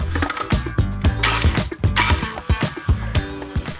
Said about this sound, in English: adding butter and yolks together to cream it on the mixer with a paddle